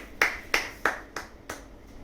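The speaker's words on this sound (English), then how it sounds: "Clap." Five sharp, close hand claps ring out at an even, fairly quick pace, each a crisp snap with a short decay, alone without talk.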